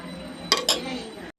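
Chicken biryani cooking in a pot as rice goes in: two quick clattering clinks of a metal utensil against the pot, close and fairly quiet over soft background hiss, ending abruptly.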